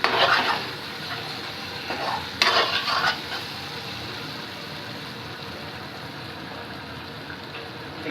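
Meat and potatoes frying in a home kitchen pan, a steady soft sizzle with a few scraping stirs near the start, continuing evenly and close.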